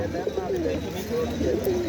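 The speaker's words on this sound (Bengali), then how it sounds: "এটা কি কি জাতের কবুতর আছে আপনার এখানে" Giribaz and other pigeons coo low and continuously close by at the Taherpur pigeon market, amid a busy crowd murmur and people talking.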